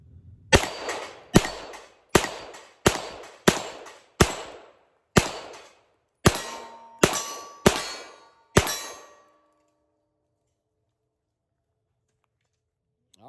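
Pistol shots ringing off a steel plate rack, eleven sharp metallic clangs spaced about half a second to a second apart, each with a short ringing decay, followed by silence.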